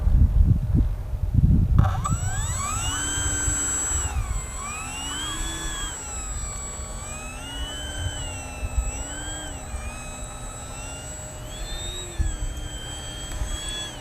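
A Hawker Tempest model aircraft taxies with its engine running, a steady whining drone that rises and falls in pitch as the throttle shifts, heard close after a brief burst of wind noise at the start.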